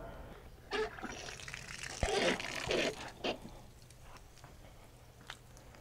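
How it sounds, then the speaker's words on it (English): Water rushing through household pipes after a supply valve is opened for a newly installed filter and softener, heard as a soft gush with brief louder surges over steady background hum. "And I just heard water."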